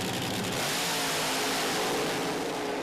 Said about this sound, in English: For Baz Young, they've added more nitro and more blower to this pass